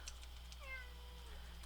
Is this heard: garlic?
no